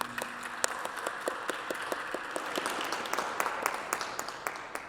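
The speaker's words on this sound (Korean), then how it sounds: "우리 같이 박수로 환영하겠습니다." A church congregation applauds to welcome visitors during a Sunday worship service at a Presbyterian church, a steady wash of many hands clapping with distinct nearer claps standing out, moderately loud and continuous.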